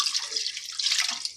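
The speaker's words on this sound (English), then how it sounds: "now what we're going to do is pour in our 2 cups of chicken stock" Chicken stock pours into a pot for chicken pot pie sauce, a steady hissing, splashing liquid stream running for over a second without any talking.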